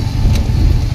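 A car being driven gives a steady low engine hum and road rumble, close and continuous for a brief moment, with a faint higher whoosh partway through.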